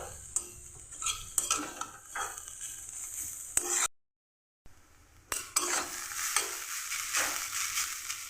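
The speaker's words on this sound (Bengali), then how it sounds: "এটাকে আমি ভালো করে ভেজে নিচ্ছি।" Cabbage frying in a pan while being stirred, with a steady sizzle and repeated spatula scrapes against the metal. A brief silent gap breaks the sound partway through before the sizzling and stirring resume, louder and brighter.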